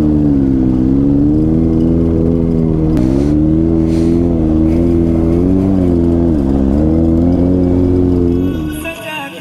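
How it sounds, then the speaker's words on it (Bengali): A motorcycle engine drones loud and close while climbing a steep off-road track in North Bengal, its pitch rising and dipping with the throttle before easing off at the end. "তো এখন হবে তুমুল লেভেলের অফরোডিং, পুরো এরকম খাড়া রাস্তা উঠবো।"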